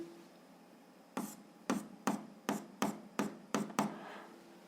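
A physics formula is handwritten in eight sharp, evenly spaced strokes or taps, each one distinct and close, over a faint steady electrical hum.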